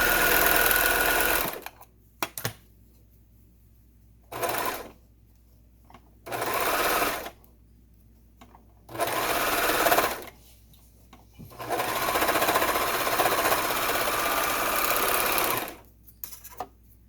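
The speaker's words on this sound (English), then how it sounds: "now we're ready to go to the sewing machine and sew our edge seams" A sewing machine stitches the edge seams of a fabric face mask in five loud, close bursts of fast rhythmic whirring, separated by quiet pauses.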